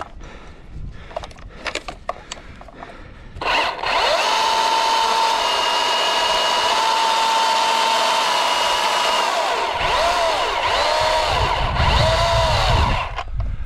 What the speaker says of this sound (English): Here's the quintessential finish cut with a pole saw.